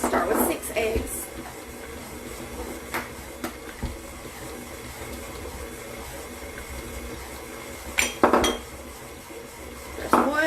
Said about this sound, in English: So we're going to start with 6 eggs